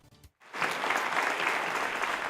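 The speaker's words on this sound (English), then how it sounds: "Members of the Syracuse community applauded the physicist who revealed a groundbreaking discovery this morning" Members of the Syracuse community applaud a physicist after a groundbreaking discovery, a dense, steady burst of crowd clapping that starts abruptly after a brief pause and continues without talk.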